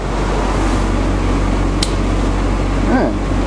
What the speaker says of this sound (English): Dual heater switches. Yeah, I can hear them blow.